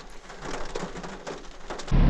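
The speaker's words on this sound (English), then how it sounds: "it's rather rainy today" Rain falls steadily as a soft, broad hiss with scattered drops, and a louder low rumble of heavier rain or wind comes in at the very end.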